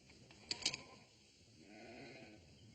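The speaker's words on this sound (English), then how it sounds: "Clear those sheep out." Sheep bleat in a couple of short, faint calls early on, heard at a distance against a quiet outdoor backdrop.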